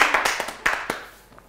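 A short burst of audience clapping at a Kyrgyz couples' game show in Bishkek, with a few sharp uneven claps that fade quickly into quiet.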